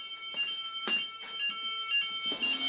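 Fire alarm sounding during a test, a loud close electronic tone pulsing in short repeated beeps throughout, with no talking.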